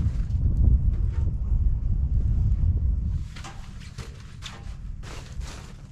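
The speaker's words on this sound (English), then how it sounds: "the wind's starting to kick up a little bit now" Wind gusting through a snowy forest during a winter blizzard, a steady low roar and rumble that is strongest early on, then eases into softer, breathier gusts with faint rustling near the microphone.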